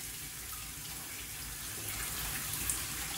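Cold tap water runs steadily over wild mushrooms being rinsed in a sink, a continuous close hiss and splash at moderate level with no talking.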